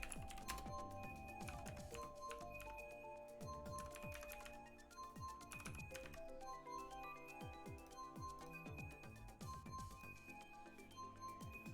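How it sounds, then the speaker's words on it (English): Continuous rapid clicking of keys on a computer keyboard during a Mario Kart livestream, steady close tapping with a faint background game sound bed and no talk. "I'm currently typing it up to pin into chat"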